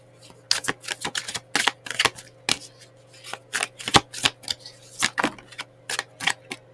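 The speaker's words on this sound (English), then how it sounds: "Last shuffle, okay?" Tarot cards being shuffled by hand in quick, uneven bursts of riffling and flicking, close up, with brief pauses between shuffles.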